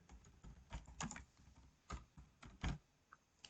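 Computer keyboard typing while entering text in Microsoft Word, close, irregular clusters of keystrokes with short pauses, fairly quiet and alone.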